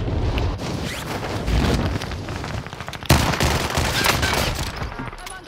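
Video game gunfire crackles in dense, continuous bursts, growing louder after a sharp blast midway, with rushing wind-like noise beneath and no clear talk.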